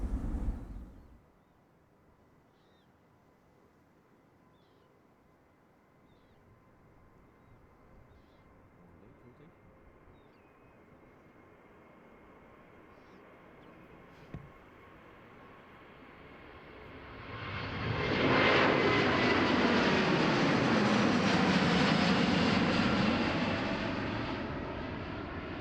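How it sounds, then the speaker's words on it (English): A LATAM Boeing 787-9 rolls down the runway for takeoff at Amsterdam Schiphol, its jet engines swelling from a distant hum into a loud, sustained roar. "rolling down the runway, we got a Boeing 787-9 from LATAM going to Sao Paulo"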